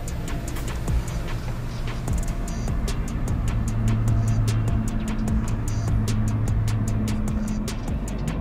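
2025 Toyota Camry XSE driving on the road, heard as a steady, even cabin hum and road roar with faint intermittent ticking clicks, no voices.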